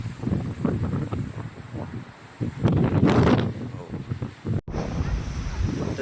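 Strong wind buffets the microphone on a mountain bike ride after rain, a steady rushing roar with gusts, and a voice talks over it throughout.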